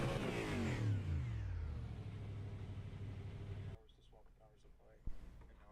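An Indy race car engine in a video game screams at full throttle, rising and then dropping in pitch, then cuts out abruptly as a voice speaks over quieter background.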